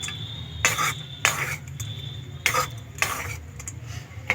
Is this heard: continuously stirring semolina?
yes